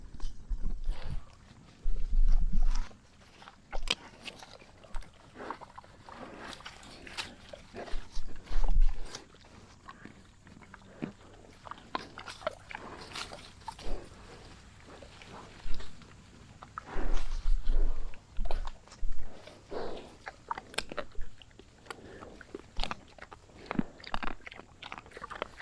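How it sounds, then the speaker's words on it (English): Farm animals munch on fallen hickory nuts under a hickory tree in a pasture, making loud, close crunching and chewing in irregular bursts, with hooves shuffling and stepping around them. "So that's what they're munching on. I think those are hickory nuts."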